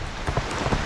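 Rain falls in a steady, dense patter across a surface at a cave entrance in Laos, filling the short moment with even hiss and soft drops.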